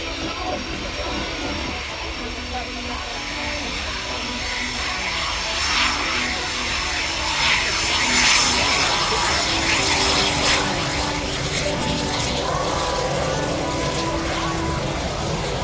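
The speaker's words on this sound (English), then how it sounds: "And there's the Italian Air Force F-2000A model rolling out." An Italian Air Force Eurofighter F-2000A jet rolls out at the Royal International Air Tattoo, its engines giving a steady broad roar at a distance that swells a little midway, with a commentator talking over it.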